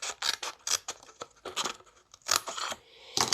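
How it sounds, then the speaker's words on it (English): Paper card for an exploding daisy box being cut along a score line, a run of short crisp snips and scraping cuts in quick uneven bursts, close and fairly quiet, with no talking. "And cut the score line."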